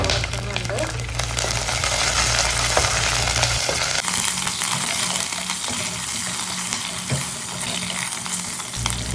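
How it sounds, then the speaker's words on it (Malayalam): Green chillies, curry leaves, shallots and coconut fry and get stirred in hot oil for a Kerala-style beef curry, a steady close sizzle with scraping stirs and a brief clink, under a faint voice. "അതിൻ്റെ കൂടെ തന്നെ കുറച്ച് കറിവേപ്പിലയും കൂടെ ചേർത്ത് കൊടുത്തിട്ട് ഒന്ന് മിക്സ് ചെയ്തെടുക്കുന്നുണ്ട്"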